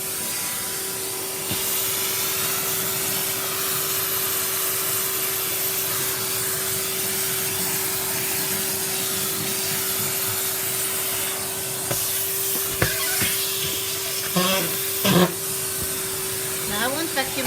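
A household vacuum cleaner drones steadily with a constant motor hum and airflow whoosh, joined near the end by a few scraping and bumping noises.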